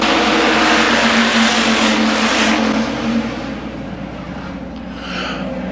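Hobby stock race cars roar around the dirt oval at Crawford County Speedway, a loud dense pack of engines at full throttle that eases slightly as the field moves off, with no talk over it.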